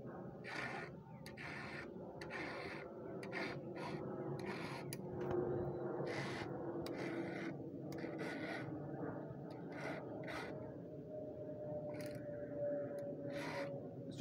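A chainsaw chain is sharpened by hand with a round file, giving about a dozen close, rhythmic rasping strokes with short pauses between them, alone without talk.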